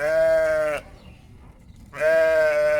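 Loud sheep bleating close by as ewes and lambs reunite in a village: one long call, a short lull of quiet background, then another drawn-out bleat.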